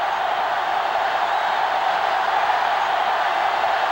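Stadium crowd noise from the college football video game NCAA Football 07, LSU at Auburn, a steady broad roar of a distant crowd, constant in level and without talk.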